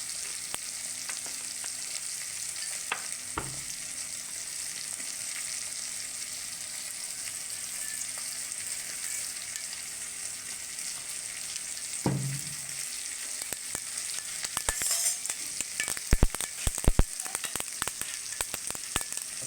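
Mustard seeds fry in hot oil in a heated pan, a steady low sizzle with scattered sharp pops that grow more frequent toward the end.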